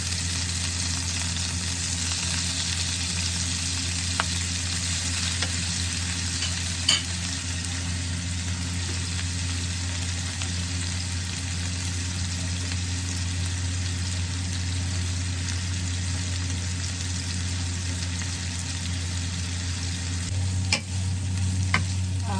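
Minced pork and pounded chili stir-fried in a pan for a Thai eggplant and basil dish, a steady dense sizzle with a low hum underneath and a few sharp utensil scrapes near the start and end.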